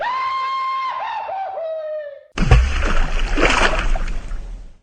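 Water rushes in a loud, steady splash on the Pirates of the Caribbean boat ride, cutting in suddenly after a sung melody and continuing close and unbroken.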